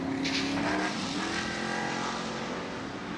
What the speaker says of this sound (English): See if Stout still has a truck to race after that last moment off that second jump here in the front straightaway